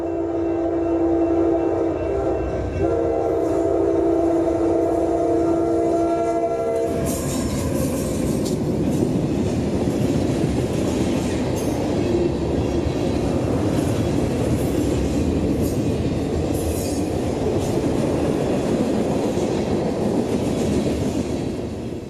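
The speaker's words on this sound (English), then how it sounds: "M441 is a daily train of general merchandise for Tampa" A freight train of general merchandise rumbles past up close on a Central Florida mainline, a steady loud roar with rattling cars and a brief horn-like tone at the start.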